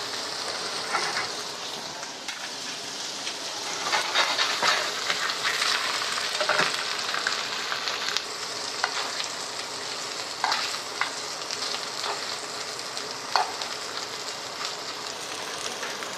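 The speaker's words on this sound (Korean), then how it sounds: "이렇게 잘라줬던 전복을 넣어서 구워주도록 할게요" Sliced abalone fries in melted butter in a pan, giving a steady close crackling sizzle with scattered pops and spatters that carries on for about sixteen seconds.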